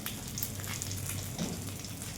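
Oil added to a hot pan while cooking a Bengali fish head dish crackles with a faint, steady sizzle and scattered small pops, with no voices.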